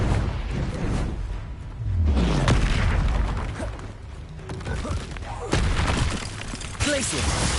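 A Confringo blasting curse in Hogwarts Legacy fires off booming explosions amid spell-combat thuds and crashes, several loud impacts spread across the stretch with some voice audible.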